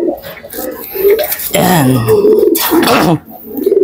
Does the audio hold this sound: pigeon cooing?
yes